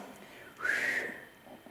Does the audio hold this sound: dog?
no